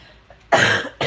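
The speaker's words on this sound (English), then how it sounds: "sorry for the coughing, guys." Two harsh coughs, close and loud, the first longer and rasping, the second a short burst right after a brief pause.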